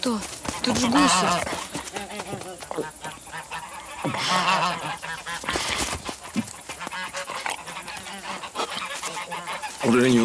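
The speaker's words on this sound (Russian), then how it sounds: "Тут же гуси." Geese honk loudly and repeatedly in a noisy flock, with a voice speaking briefly amid the calls.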